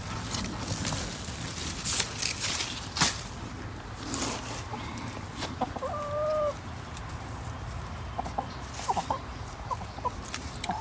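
Backyard hens clucking as they are handed comfrey leaves as a treat, with soft murmuring clucks, a few sharper calls and brief rustling bursts, close by and moderately loud.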